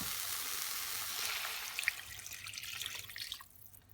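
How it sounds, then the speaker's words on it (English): Stock is poured into a hot pan of softened risotto rice, a steady rushing splash and sizzle that carries on for about three seconds before tapering off. "so I'm going to add my stock."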